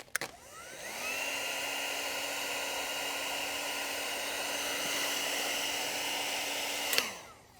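A heat gun blows steadily on vinyl wrap being applied to a Tesla side mirror, a loud continuous motor whine and airy hiss that starts after a second, holds evenly for about six seconds, then cuts off.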